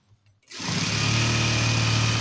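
A sewing machine stitching fabric in tailoring work starts after a brief pause and runs as a loud, steady, close mechanical whir with a fast, even buzz.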